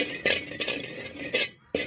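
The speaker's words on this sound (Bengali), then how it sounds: "তারপরে এটাকে অনবরত নাড়তে থাকবো।" A spoon stirs a milk and rice flour mixture in a pot on the stove, several close scraping strokes against the metal with brief pauses between, fairly clear and alone.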